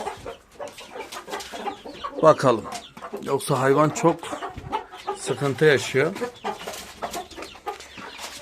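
Hens and a rooster clucking and squawking in a backyard coop, with someone speaking close by over the repeated bird calls.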